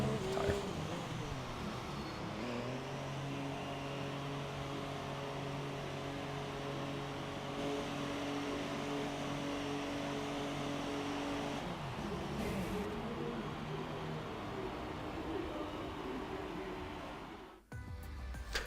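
A Formula 1 race car at the Singapore circuit drives toward the pit lane with a steady, humming engine note that shifts pitch over time, moderately quiet and continuous, with a commentator talking over it.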